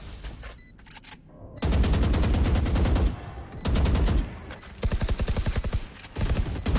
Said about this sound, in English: Dark Zero is firing through